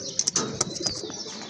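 A pair of two-coloured pigeons coos softly at close range, with a few brief wing flutters and scattered chirps.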